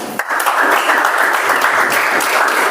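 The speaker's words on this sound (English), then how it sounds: "With a big round of applause, let's call upon Toastmaster Jimmy." An audience at a Toastmasters club meeting bursts into applause, a dense, steady round of clapping that starts abruptly and continues loudly throughout.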